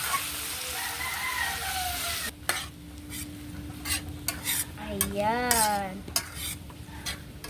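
Food sizzles in a pan as it is stirred with repeated scraping strokes, while a rooster crows in the background and a voice speaks briefly.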